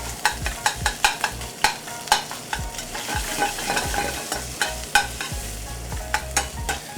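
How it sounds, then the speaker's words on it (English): House-made sausage rendering in a pan for sausage gravy, a steady close sizzle and frying hiss broken by repeated sharp scrapes and taps of a utensil stirring the meat, with no talk. "So we got some house-made sausage, and we're gonna render that out a little bit."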